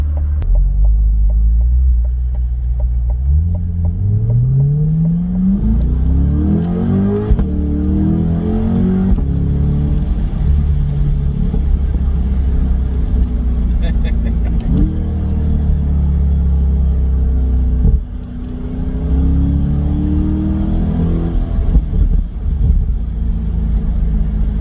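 2020 Chevrolet Corvette C8 with the top down, its engine revving and accelerating through rising gear pulls, loud and close, with repeated upshifts and a deep rumbling exhaust throughout and no talking.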